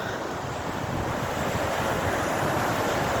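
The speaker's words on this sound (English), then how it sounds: "I like the sound of the sea." Sea waves rolling onto Colwyn Bay beach on a rainy day, a continuous broad wash of surf with steady wind noise buffeting the microphone, loud and unbroken with no talking.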